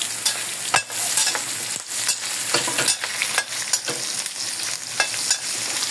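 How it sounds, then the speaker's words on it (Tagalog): Sliced pork and ginger sizzle and fry in a pan, with steady crackling broken by repeated scraping stir strokes, loud and close. "Sunod natin ngayon yung luya. I-prito lang natin sa gilid, oh."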